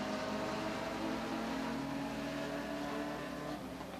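Race cars circling Talladega Short Track, one slowing at the top of the banking, give off a steady, dense engine roar that stays loud and continuous throughout, with layered tones from several cars.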